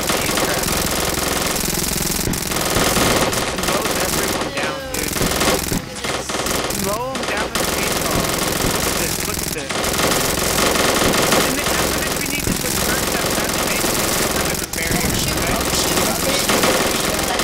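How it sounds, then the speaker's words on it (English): Heavy, continuous assault rifle fire in the zombie shooter Another Zombie Defence, loud and dense with brief pauses between bursts. Players talk over the shooting. "I don't think all three of us have assault rifles yet."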